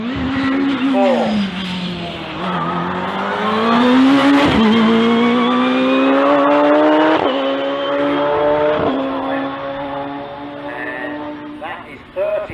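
A hill climb race car at Gurston Down in a British HillClimb Championship run-off accelerates hard toward about 124 mph. Its loud, sustained engine note climbs in pitch with several sharp gear-change drops while a commentator talks over it.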